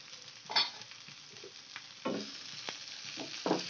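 Potato masala dry frying in a pan over medium-low flame, with a quiet crackling sizzle and several soft scrapes and thumps as the spoon turns the mixture.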